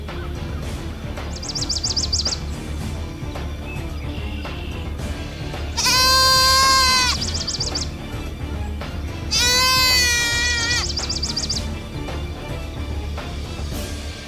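Bighorn sheep bleat twice, each a loud, wavering call lasting about a second, several seconds apart over a steady low background rumble, with faint bird chirps scattered in between.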